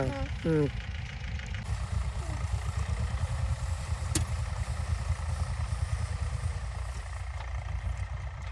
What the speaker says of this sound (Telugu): అబ్బా ఇంకా ఆడెవరు ట్రాక్టర్ తోలేదు బాబ్జీనా